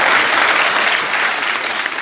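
Hindi comedy poetry gathering, a hasya kavi sammelan: the crowd gives a loud, dense round of applause that runs steadily for the whole stretch.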